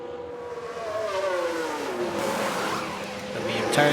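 Lewis Hamilton's Mercedes F1 car entering the pits in F1 Manager 2022, a high engine whine sliding down in pitch as it slows, close and fairly loud with a brief sharp noise at the end.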